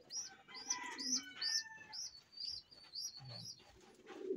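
Pigeons coo repeatedly inside a loft, with rhythmic rising and falling calls close by, soft chirps and faint rustling in between.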